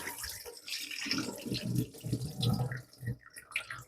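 Tap water runs steadily into a kitchen sink as starch is rinsed out of food being prepared for chicken fricassée, with soft splashing and gurgling close by.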